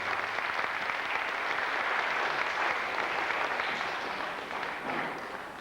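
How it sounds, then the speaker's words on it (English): Concert audience at a memorial concert in a hall in Roslea, applauding in a steady, full round of clapping that holds for several seconds and then slowly eases. "So I think you deserve a big round of applause."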